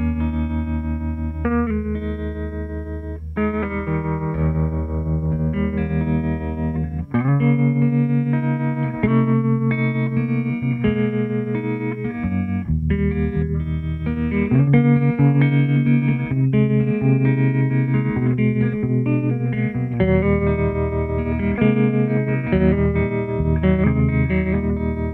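Sustained electric guitar through a Red Witch Seven Sisters tremolo pedal at full depth and moderate rate, a pulsing, wavering volume throughout, chords and melodic lines ringing out steadily with no voices.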